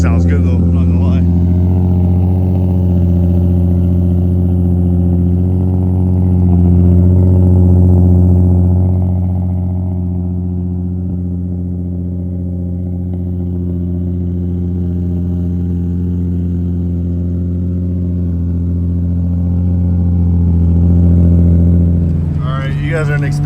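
A Nissan 350Z engine runs loudly and steadily for the whole stretch, a deep harmonic drone with slight swells in pitch, close by and heard without any talk over it.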